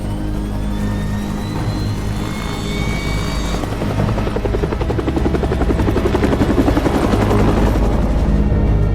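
A helicopter flies through an action movie scene, its loud, steady rotor drone and whine filling the whole stretch and growing slightly denser toward the end.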